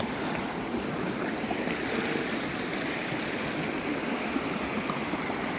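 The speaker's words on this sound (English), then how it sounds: "We've got a river on this side of the driveway that shouldn't be there." Floodwater runs like a river alongside a crumbling asphalt driveway on a flooded homestead, making a steady, close rushing wash that never lets up, with no voices.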